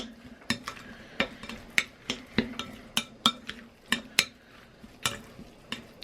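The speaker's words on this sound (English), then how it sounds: "Stir that in." Stirring a mixture in a bowl while cooking chicken to be breaded: about a dozen sharp utensil clacks against the bowl in a loose, steady rhythm, close and clear over a faint background hum, with no talking.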